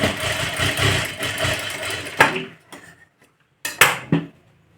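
A sewing machine stitches a blouse hem with a loud, steady whirring run of about two seconds, then stops, followed by two short bursts of stitching separated by near silence.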